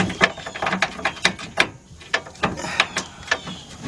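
Ratchet tightening a bolt on a fuel tank strap of a Chevy Tahoe, Yukon or Cadillac Escalade, a series of close, crisp clicking strokes in an uneven rhythm.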